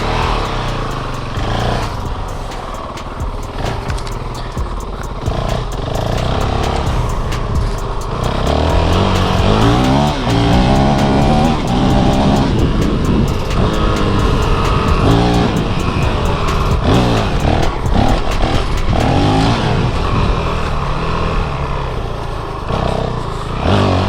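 A Honda CRF450L dirt bike with a quiet stealth exhaust rides along, its engine rising and falling through gear changes with wind and rough ambient noise, fairly close and continuous, no talk.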